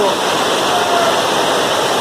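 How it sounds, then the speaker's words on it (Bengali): Heavy rain pours down in a loud, dense, unbroken roar that fills the whole moment. "এই একটু আগে মানে প্রচুর জোরে বৃষ্টি পড়তে লেগেছে, প্রচুর সাউন্ড আই থিঙ্ক শুনতে পারছো তোমরা।"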